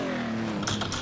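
A car is shifted into reverse in a racing sim video game, giving two or three short mechanical clunks near the end over a steady engine hum.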